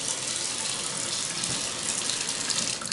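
Water runs steadily from a bathroom sink faucet at strong pressure, a dense, even hiss and splash that holds close and constant throughout without any voices.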